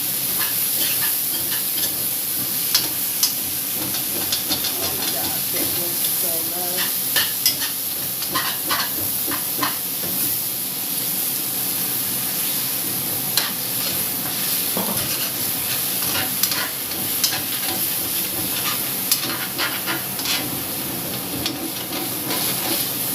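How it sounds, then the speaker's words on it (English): Chicken tikka masala sizzles steadily in a pan while a spoon stirs it, giving a constant frying hiss with frequent scraping clicks against the pan, close and fairly loud. "Give that a good stir."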